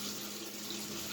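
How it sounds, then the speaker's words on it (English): Warm tap water running steadily from a faucet into a sink, a soft continuous broadband splash and hiss, quiet and unbroken, with no voices. "so I got my little warm water running"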